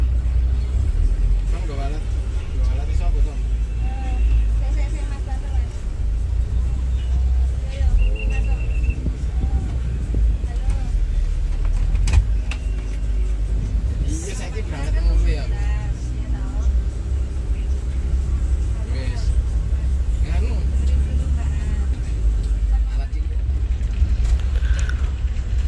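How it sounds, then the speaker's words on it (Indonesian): A Volvo B8R sleeper coach cruises along a road in Indonesia, with a steady low engine and road rumble heard from inside the cabin under ongoing voices. "ini bus melanjutkan perjalanan kembali, langsung tidak ada pemberhentian lagi ya teman-teman, langsung menuju ke Malang."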